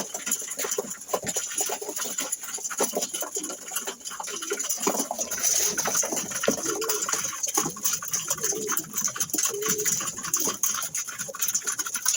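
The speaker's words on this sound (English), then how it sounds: "Nice, nice birds, man." Pigeons in a loft coo and flutter amid a constant hissy bird-house din, their calls layered and fairly close throughout.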